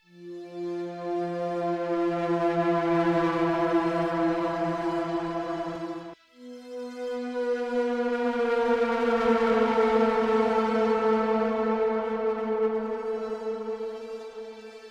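A synthesizer tone with rich overtones swells and bends in pitch, drops briefly, then returns a step higher and glides, sounding like a wailing siren.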